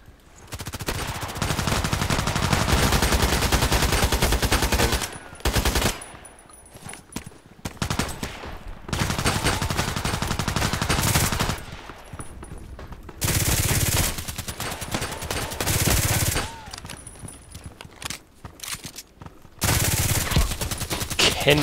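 Bursts of gunfire in a sniper video game, rapid machine-gun-like volleys repeating in loud stretches separated by brief quiet gaps over about twenty seconds.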